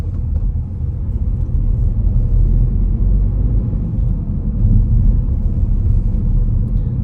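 A car pulls away and accelerates along a driving test route in Raheny, with a deep engine rumble building and holding steady from inside the cabin, and no talking.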